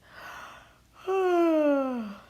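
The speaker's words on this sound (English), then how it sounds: "rubbed his eyes, and let out a big yawn" A single long, drawn-out yawn that slides downward in pitch, preceded by a soft breathy inhale.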